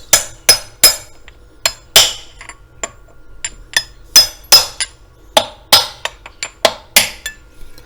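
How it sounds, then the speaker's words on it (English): A small aluminium block taps a part into place on a KTM engine, producing a series of sharp, close metallic knocks at irregular intervals, some harder than others, with no talking. "Got a little aluminium block. Tap that into place."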